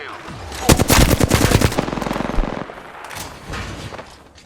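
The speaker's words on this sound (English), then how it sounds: "The enemies are shooting at me." Enemy gunfire erupts in a video game, with rapid automatic bursts crackling close and loud, then tapering into scattered distant shots.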